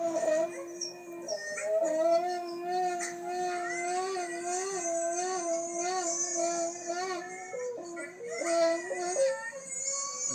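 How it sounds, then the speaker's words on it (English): A husky howls in long, wavering, sing-song tones, one drawn-out cry rising and falling after another, close and clear with no break for the full length. "Go on, howl. Howl with him."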